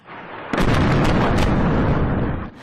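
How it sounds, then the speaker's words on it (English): Explosions in Tyre, southern Lebanon: a loud, sudden blast erupts and rolls on as a sustained booming roar for about two seconds before cutting off. "multiple explosions rocked Tyre in the south."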